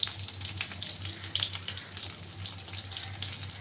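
Slices of pointed gourd fry over low heat in mustard oil, giving a steady, close sizzle with scattered crackles and pops and no voices.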